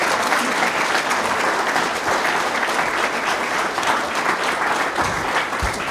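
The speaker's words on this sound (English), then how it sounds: "More applause." Sustained audience applause after a talk, dense steady clapping from a large crowd holding at an even level for the whole stretch, with no voices over it.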